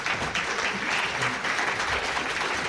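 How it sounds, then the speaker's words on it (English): Audience applause for the speakers at the close of a condominium Q&A session; a short, steady burst of many hands clapping throughout. "I'd also ask that you give the speakers a round of applause,"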